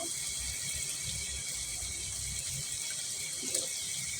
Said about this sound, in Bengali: চিকেনটাকেও ভালো করে ধুয়ে নেবেন